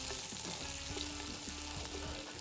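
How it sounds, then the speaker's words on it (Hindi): Onions fry in a pan for mutton shorba, giving a steady, even sizzle with faint stirring scrapes, fairly soft and close with no voices. "चले प्याज फ्राई कर रहे हैं। चले प्याज थोड़ा सा फ्राई किया"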